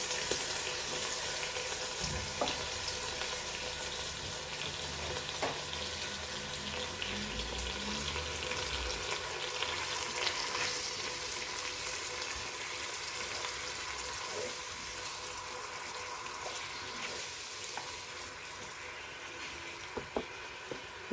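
Ginger, garlic and turmeric paste with chili sizzles in a hot pan for Goan sausage pulao, a continuous loud hiss and crackle with occasional clinks, no talking.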